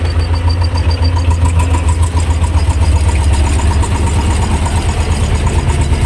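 A T-25 tractor engine runs steadily while driving a Polish segment mower through old grass, a loud, close, rhythmic diesel chug with a constant pulsing beat and no speech.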